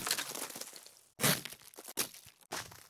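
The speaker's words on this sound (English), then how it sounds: "We had ice, like crazy ice on my car, so I would like break it off" Loud cracking and crunching bursts of ice being broken off a car, four separate chunks with brief silences between, close up.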